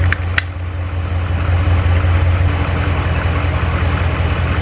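A 2009-2018 RAM 1500 idles steadily after a battery replacement, a low, even engine hum recorded close by in a garage, with a brief click near the start and no talk.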